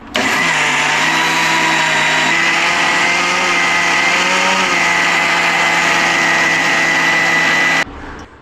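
A mixer grinder grinding rice into powder in a home kitchen: a loud, close, steady motor whine with a rattling, gritty churn, running continuously before cutting off near the end.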